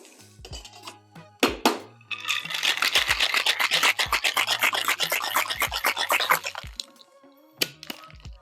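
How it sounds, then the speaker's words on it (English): Cosmopolitan cocktail with cranberry juice shaken in a cocktail shaker, a dense rattling run of ice clattering against the tin for several seconds, with a few sharp knocks and clinks before and after, fairly close and loud. "Then you want to shake that up."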